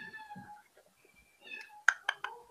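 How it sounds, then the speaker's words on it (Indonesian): A cat meows several times in the background, faint drawn-out mewing calls followed by a few sharper, louder meows near the end, with people talking quietly around it. "Nggak tahu nih, ada kucing di belakang nih."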